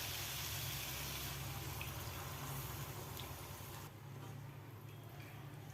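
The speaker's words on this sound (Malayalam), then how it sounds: "ഞാൻ പാത്രത്തിൽ കുറച്ച് വെള്ളം ഒഴിച്ച് വെള്ളം കൂടി ഒഴിച്ച് കൊടുക്കാം" Water is poured into a pot of chicken in a home kitchen, giving a soft, continuous splashing hiss that eases off slightly toward the end.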